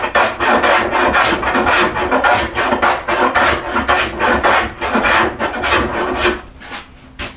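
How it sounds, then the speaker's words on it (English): A hand plane, skewed across a wooden chair seat blank, cuts a long bevel in loud, close, rhythmic rasping strokes, about a dozen in quick succession before slowing at the end. "really planing a long bevel from about here across to the end"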